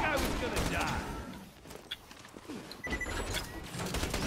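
Rapid gunfire in the co-op video game Borderlands 2, bursts of sharp shots and clattering mechanical fire in quick succession, with players talking over the action.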